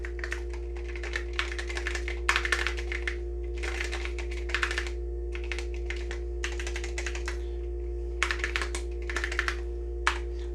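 The grey keys of an old Osborne computer keyboard are pressed in irregular bursts of clicky typing, close and fairly crisp over a steady electrical hum.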